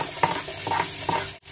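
Onion sizzling in a hot pan while being stirred for pork humba, a close, continuous sizzle broken by three short scraping strokes of the utensil before a brief drop at the end.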